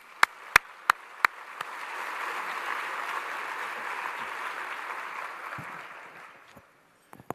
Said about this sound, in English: I'd like to just give our headquarters team a round of applause.